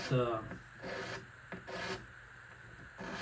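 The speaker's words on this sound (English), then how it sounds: "So I'll just go ahead and scrape this fretboard off a little bit." Rasping scrapes across the wooden fretboard of a Kona acoustic guitar during cleanup, several short rough strokes in an uneven rhythm, close and fairly quiet.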